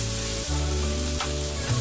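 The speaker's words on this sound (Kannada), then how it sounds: "ಒಂದು 2 ನಿಮಿಷ ಅದ್ರ ಜೊತೆ ಹೀಗೆ ಅದು ಫ್ರೈ ಆಗಲಿ. ಲೋ ಫ್ಲೇಮಲ್ಲಿ ಇಟ್ಕೊಳ್ಳಿ" Okra (bhindi) fries in a pan over a low flame, giving a steady close sizzle with two brief stir or scrape breaks.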